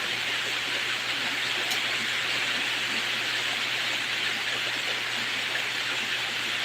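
Steady rain falls outside in the Philippines, a continuous even hiss of downpour filling the whole clip at moderate loudness with no talk over it.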